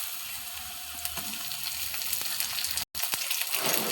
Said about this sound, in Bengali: তেলের মধ্যে দিয়ে দেব কুচিয়ে রাখা টমেটো